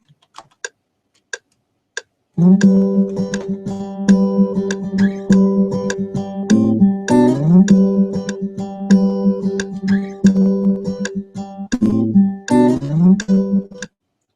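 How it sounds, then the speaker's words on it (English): Second guitar loop layered into a recording: a few sparse clicks, then steady, close picked guitar notes repeating in an even rhythm, played alone with no voices. "I have added this second loop of the guitar"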